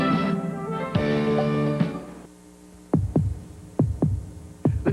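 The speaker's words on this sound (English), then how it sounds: "Listen to the heartbeat" Heartbeat sound effect in a 1988 television commercial for the new Beretta sport coupe: after a swelling tonal music passage, deep thumping beats arrive in paired double pulses, loud and close, about three pairs in steady rhythm.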